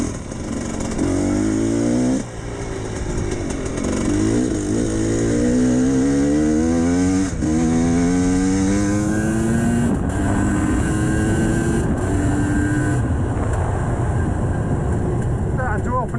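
A GPX TSE 300R motorcycle pulls away in second gear, its engine note climbing steadily in pitch over repeated rises, loud and close with rushing wind noise, and a rider's voice faintly underneath.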